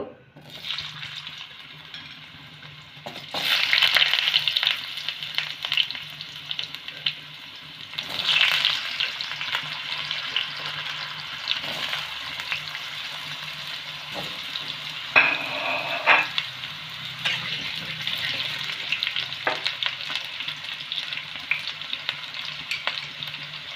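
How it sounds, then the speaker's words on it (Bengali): Potatoes fry in hot mustard oil in a kadai, a loud, continuous sizzle with bursts of stirring and scraping, plus a brief ringing clink midway, and no talking. "প্রথমে আমি আলুটাকে ভেজে নেব"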